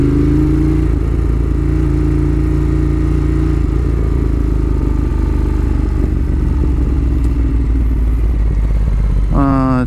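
A motorcycle accelerating on the road while being ridden, its engine roaring loud and close throughout with rising rev tones near the end, mixed with wind rush and a voice speaking over it.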